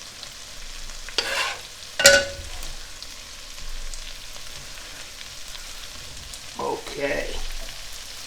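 Food sizzles and reduces in a pan with a low steady hiss, broken by a few sharp scrapes and clatters of stirring. A voice speaks briefly.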